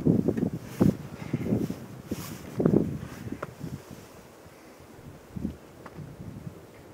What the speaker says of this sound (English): Oh, the stinking wind.